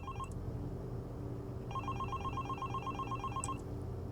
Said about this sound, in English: if the phone rings